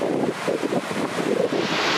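Steady wind buffets the microphone at a Mexican seaside spot, with the wash of waves blended into a continuous, fairly loud roar and no voices.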